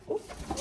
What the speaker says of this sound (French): Les gars, il y a des pigeons.